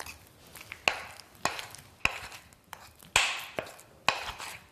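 Brown colouring is stirred into buttercream for cupcakes with a series of sharp taps and scrapes against the bowl, about six evenly spaced strokes, close and moderately loud with no talking.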